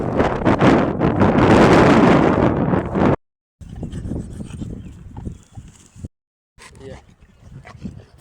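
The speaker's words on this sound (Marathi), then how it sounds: "इकडे बघा ना तुम्ही व्ह्यू बघा हा फुल वारा" Strong wind buffets loudly against the microphone in gusts that cut out briefly, while people talk nearby.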